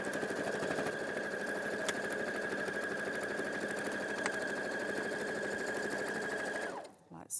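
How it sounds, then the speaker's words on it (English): A sewing machine stitches a quarter-inch seam allowance, a loud, steady rapid mechanical whir running without pause for several seconds before stopping abruptly near the end. "I'm just going to sew 1/4 inch seam allowance on this."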